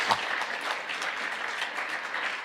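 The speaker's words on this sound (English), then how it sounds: "Alan and all of our judges, give them all a big round of applause." An audience claps for the judges at a junior chef competition final, a steady burst of close, fairly loud applause lasting the whole moment with no talking on top.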